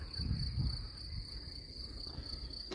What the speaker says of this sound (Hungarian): Tücskök cirippelnek